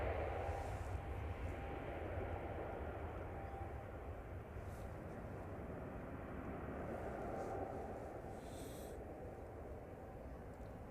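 A Jet2 airliner departs Manchester Airport for Alicante, its engines a faint, distant, steady roar that slowly fades over about ten seconds on a foggy morning.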